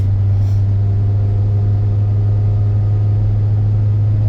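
A 2004 Volvo XC90's engine and exhaust hum as a loud, steady low drone while the SUV drives along, continuous and unbroken with no voices.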